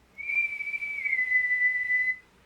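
A human voice imitating a ship bosun's whistle: one sustained, clear, high whistled tone that holds steady, then slides slightly down and ends cleanly, alone and close.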